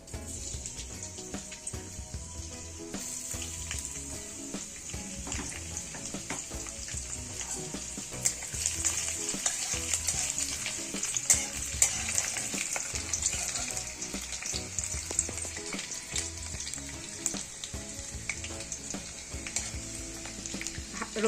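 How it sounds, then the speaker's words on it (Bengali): Chopped garlic sizzles steadily in hot oil with bay leaf, cinnamon and whole cumin, a loud continuous crackle that swells midway, with occasional stirring scrapes and no talking. "এবার এখানে আমি রসুন কুচি দিয়ে দেব।"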